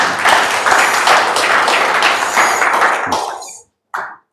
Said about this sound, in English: Let's applause.